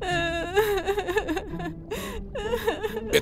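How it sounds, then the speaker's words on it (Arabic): Someone cries in a drama scene, with wavering, whimpering sobs and rising wails that come in short bursts, close and fairly loud. "أمال منين يعني جاي صوت العياط ده؟"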